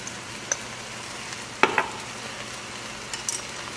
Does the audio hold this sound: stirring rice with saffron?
yes